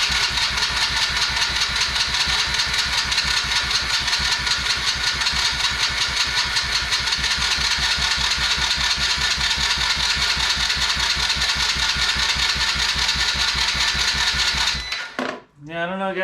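A Chinese kids' quad with a non-running engine runs steadily and loudly for about fifteen seconds with a constant mechanical chatter, then cuts out abruptly into near silence.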